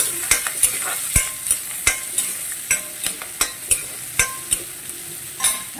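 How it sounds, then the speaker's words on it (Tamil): Fennel seeds sautéed lightly in a pan make a low crackle under repeated sharp scrapes and taps of a spoon, roughly one stroke per half second, close and clear with no voices. "இதை வந்து நம்ம லைட்டாக தான் வதக்கணும்"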